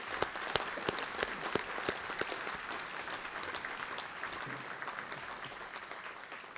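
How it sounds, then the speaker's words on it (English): Applause from a sports hall of fame banquet audience, a steady wash of many hands clapping with a few sharp individual claps standing out near the start, gradually thinning toward the end. "So I think they are very, very much entitled to a tremendous round of applause."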